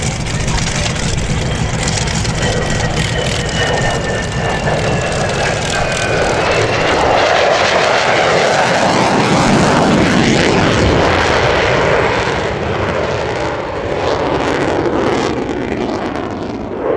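An F-35 with its Pratt & Whitney F135 jet engine roars overhead at the Wings Over Illawarra airshow, a loud, sustained rumbling whine with shifting pitch as it passes, while an announcer talks over it.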